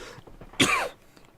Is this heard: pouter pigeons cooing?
no